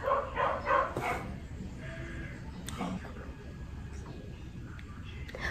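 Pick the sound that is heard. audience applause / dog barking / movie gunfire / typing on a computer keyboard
dog barking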